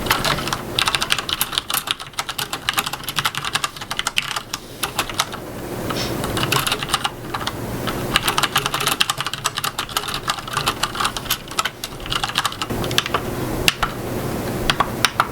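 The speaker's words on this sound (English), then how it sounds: "here's a quick typing test with the Logitech G610. These are the Cherry MX Brown switches." Steady, fast typing on a Logitech G610 Orion mechanical gaming keyboard with Cherry MX Brown switches, a dense run of crisp clicks and clacks continuing close up for the whole stretch with no talk.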